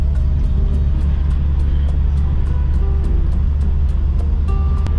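A 1949 or 1953 Chevrolet accelerates on the road, its engine a loud, close, steady low rumble filling the cabin, with faint ticking clicks recurring over the drone and no speech.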